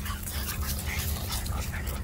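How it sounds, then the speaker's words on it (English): Several dogs run around outdoors, with soft yips, whimpers and panting scattered over a constant low rumble, fairly near and without speech. "I have the dogs out here running around today."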